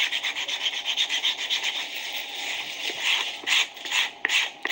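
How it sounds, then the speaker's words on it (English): Rough sandpaper rubbed back and forth around a handmade welted shoe, a steady close rasping scrape in quick repeated strokes with brief pauses. "you can use your sandpaper, of course, all around it. I'm using a very rough one."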